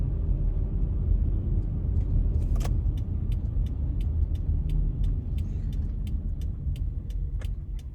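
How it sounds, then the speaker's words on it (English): A car on the drive toward Norris Geyser Basin in Yellowstone: steady low road rumble and engine drone from inside the cabin, with faint regular ticking over it. "I'm going to go ahead and do the drive over to the Norris Geyser Basin"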